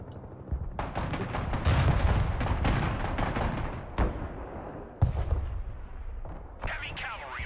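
Artillery firing in the Broken Arrow war game, heavy booming blasts and rolling rumble with a few sharp bangs, loud and close, mixed with voices talking.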